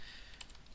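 Quick, light clicks of a computer keyboard as an email address is entered into a PHP and MySQL form, a soft rapid burst heard close and alone.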